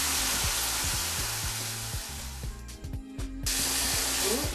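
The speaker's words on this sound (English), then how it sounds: "running it under a tap until the waters run clear" Sushi rice is rinsed under a running kitchen tap, a steady, loud broadband water hiss that briefly thins midway, with soft music underneath.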